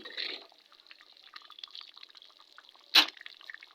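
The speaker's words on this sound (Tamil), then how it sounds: "தேங்காய் அரைச்சி வச்சுட்டு தண்ணி சேர்த்து வச்சுருக்கேன், அதை உள்ள கொட்டி" Coconut paste ground and mixed with water is poured into a pan for a masala kuzhambu curry, giving one short, close liquid splash and slosh near the end after a quieter start.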